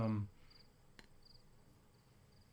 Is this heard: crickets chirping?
yes